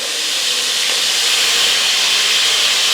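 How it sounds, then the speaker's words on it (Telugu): Mustard seeds and chillies sizzle in hot oil for an egg curry, a loud, steady, close hiss that holds evenly without pause or talk. "ఆయిల్ వేడైనాక పోసుగింజలు వేసుకోవాలి గింజలు వేసిండు తర్వాత మిరపకాయలు వేస్తాడు"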